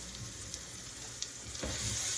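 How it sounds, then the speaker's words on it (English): Ground beef sizzles and fries steadily in a pan, a continuous close crackle with occasional stirring scrapes and a brief louder burst near the end. "Now you're going to want to get your ground beef all nice and browned."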